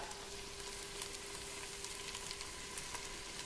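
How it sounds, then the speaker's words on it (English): Garlic, oregano and spices sizzling in a pan, a faint, steady crackling hiss with tiny pops, continuous and even throughout with no talking. "I let it stick first to the bottom of the pan"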